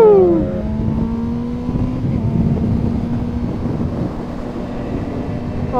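Two Mazda RX7 sports cars rev and accelerate nearby with a loud, rising engine drone and buzzing exhaust, heard amid wind noise from a passing motorcycle rider.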